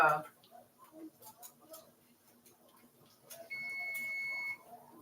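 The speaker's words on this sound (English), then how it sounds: "timer just went off" A kitchen timer beeps in one steady sustained tone near the end of the clip, after a stretch of quiet kitchen sounds beside a stove.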